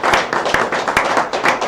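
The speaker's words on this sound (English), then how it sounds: "round of applause for all the new games here" Audience applause at a Kentucky Fried Pixels game jam presentation, close hand claps in a quick uneven rhythm over a short burst, with no talking.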